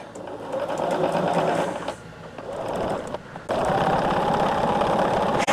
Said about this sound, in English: I'm just sewing it.